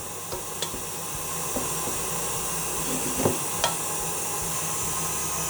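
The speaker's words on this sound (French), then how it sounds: "Je mélange les éléments secs ensemble avec la spatule" A spatula stirs sifted flour and other dry ingredients together in a bowl, making soft scraping and light taps over a steady hiss of background noise, with a few sharper clicks.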